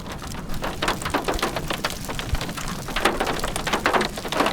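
Heavy rain pours down during a stationary supercell storm near Dupree, South Dakota, a loud, dense hiss of drops drumming on surfaces with gusty surges, and no voices.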